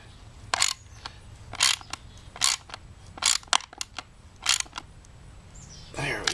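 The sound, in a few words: ratchet cranking down a bolt in a T-nut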